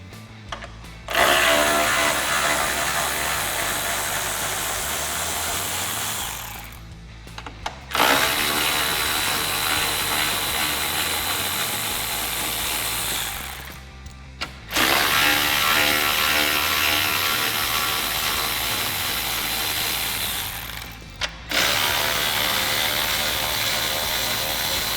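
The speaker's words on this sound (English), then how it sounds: "Now we can remove the 4 bolts at the top of the grill using our 10mm socket." A ratchet with a 10mm socket backs out the top grille bolts on a 2018-2020 Ford F-150, running in three long, steady buzzing bursts separated by short pauses, close and loud with no talking.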